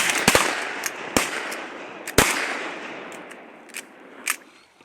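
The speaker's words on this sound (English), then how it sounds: "Shoot the one in the air." Shotgun blasts fired at a flying goose while hunting at a pond: several sharp, loud reports in quick succession, with fainter distant shots trailing off afterward.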